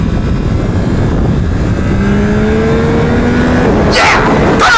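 A 2025 Yamaha R9 sport motorcycle accelerates hard on a race track, its engine a loud, steady, close roar with rising pitch through the gears, wind noise throughout and a brief shift change near the end.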